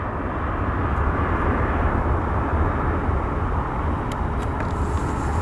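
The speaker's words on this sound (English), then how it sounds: "And there goes that United 737 MAX 8." A United Boeing 737 MAX 8 jet departs from Portland, its engines a loud, steady broadband roar held at constant strength throughout, with no voices over it.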